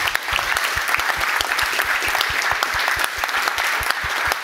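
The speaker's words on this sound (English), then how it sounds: "let's give Elbert a nice round of applause" Audience claps after a talk on shipping mobile games, a full, even round of applause with crisp individual hand claps standing out, sustained throughout at a moderate, close level.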